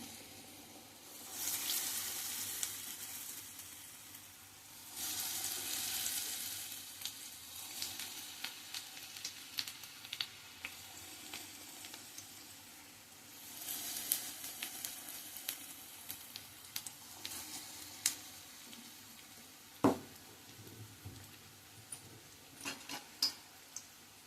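Pesara punugulu, moong dal fritters, fry in hot oil with a steady, fairly quiet sizzle that swells in waves, scattered with small crackles and one louder knock of a utensil.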